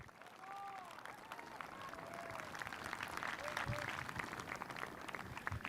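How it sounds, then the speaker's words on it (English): Graduates at a high school graduation ceremony applaud their families, a faint, dense clapping that builds steadily, with a voice heard early on. "give them a round of applause for their support and encouragement"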